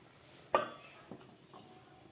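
A single clear clatter as a metal lid is set down on a cooking pot of tangy kul (jujube) and tamarind pickle on a switched-off gas stove, followed by two fainter small knocks.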